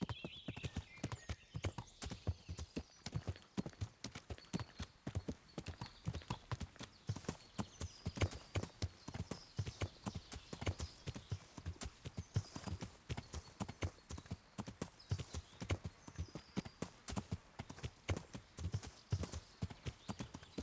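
Horse hooves clip-clop at a steady walking rhythm in the video game Kingdom Come Deliverance, with a brief whinny early on, moderately quiet and continuous.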